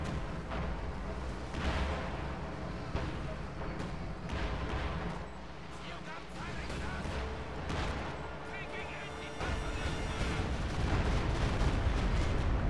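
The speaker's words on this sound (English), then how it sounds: "It's quite the barrage." An artillery barrage in Company of Heroes 2 during a 3v3 match at Angermuende rumbles continuously with overlapping booms and distant thuds, and a voice talks over the steady bombardment, which swells louder toward the end.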